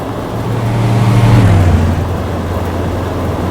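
A 1967 Dodge Polara drives past at close range, its engine drone swelling loudly, dipping slightly in pitch as it passes, then settling into a steady road rumble with tyre noise.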